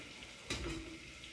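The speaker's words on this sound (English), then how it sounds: "Add it into our butter mixture as it continues to saute the" Garlic and chili powder sautéing in melted butter, a faint steady sizzle with a brief stirring scrape partway through, close and quiet.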